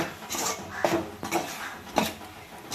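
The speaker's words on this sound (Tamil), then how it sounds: "இறாலை போட்டு நல்லா கிண்டி விட்டுக்கணும்." Prawns being stirred in a cooking pan for prawn thokku, a spoon scraping and tapping against the pan in several soft strokes, fairly quiet and close, with no talking.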